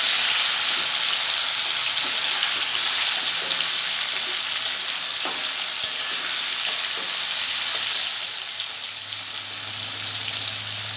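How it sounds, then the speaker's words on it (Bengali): Potatoes fry lightly in hot oil with a dense, steady sizzle close by. Occasional soft clicks of stirring sit on top, and the sizzle eases a little toward the end with no talking. "এইভাবে আলুটা হালকা ভেজে নেব"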